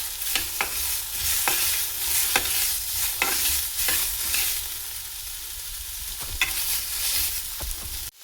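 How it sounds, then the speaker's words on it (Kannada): Onion and tomato fry in a pan for horse gram rasam, giving a steady close sizzle broken by regular sharp scrapes and taps of a spoon stirring every second or so, with no talking. "ಇದು ಕೆಂಪು ಆಗೋ ತನಕ ಈರುಳ್ಳಿ ಹುರ್ಕೋಬೇಕು"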